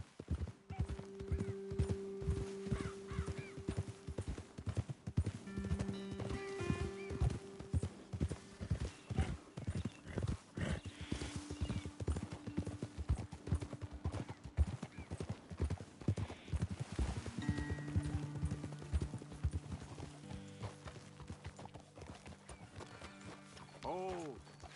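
Horse hooves clip-clop steadily on a trail in Red Dead Redemption 2, several horses walking together, loud and close with a regular rhythm, mixed with game music tones and occasional talk over the top.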